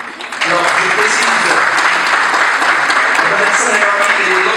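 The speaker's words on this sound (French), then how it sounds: "applaudissons-la chaleureusement pour monter en scène" Audience applause greeting a woman called to the stage at a student leadership meeting in Tangier, a dense, steady wash of clapping sustained throughout with some voices mixed in.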